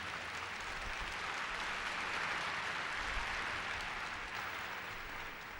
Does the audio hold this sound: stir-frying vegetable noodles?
no